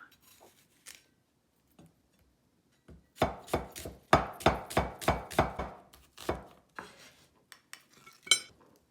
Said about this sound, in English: Next, we cut white onion.